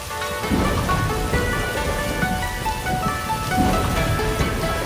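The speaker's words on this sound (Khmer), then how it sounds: "ហើយក៏មានភ្លៀងធ្លាក់ខ្លាំង" Heavy rain pours down steadily with large drops amid strong wind, a dense, continuous hiss and patter with no voices.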